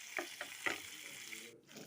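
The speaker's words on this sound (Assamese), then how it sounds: "এয়া দেখিছে আমাৰ মাছ হৈছে আৰু অলৰেডি ফ্ৰাই হৈছে।" Fish frying in a pan gives a faint, steady sizzle with a few soft crackles and pops, quiet and short, with no one talking.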